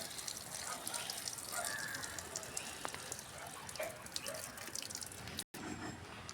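Liquid manure water is poured onto garden plants, a faint steady trickling and splashing with scattered drips, heard alone without talk.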